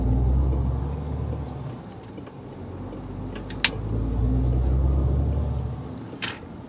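A truck on the road heading to a freight depot, its engine giving a steady, loud low rumble throughout, with a couple of faint high clicks or squeaks over the drone.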